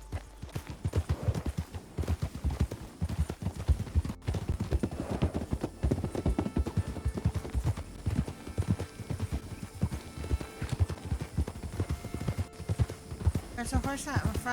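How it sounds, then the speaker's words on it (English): A horse's hooves clop in a steady, rapid rhythm, fairly close and continuous under people talking, with a faint whinny-like sound near the end. "There's a horse out in front over there on the hill"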